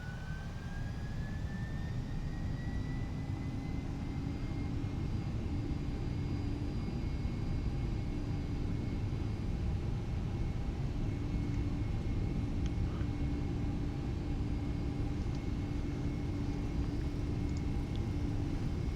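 Simulated Boeing 767-300F freighter on its takeoff roll in X-Plane 11: a steady, loud jet-engine roar with a rising whine that settles into a constant tone, sustained throughout with no talking.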